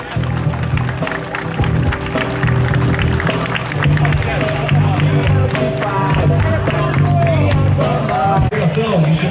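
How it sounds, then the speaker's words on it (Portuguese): A crowd claps and cheers along a festive city anniversary parade in Resende, loud and continuous, with a public-address announcer talking over it and background music. "Vamos receber com carinho, vamos aplaudir,"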